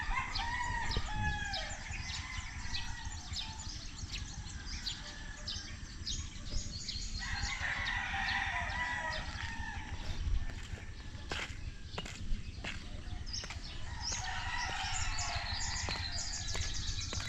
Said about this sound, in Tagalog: yung mga manok na yan.